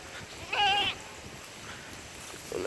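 A single short, loud bleat from a young male goat kid on a rainy farm, one of two newborn twins, heard close and alone over steady rain-like background hiss.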